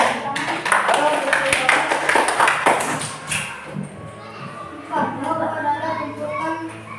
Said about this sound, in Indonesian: Beri tepuk tangan pula.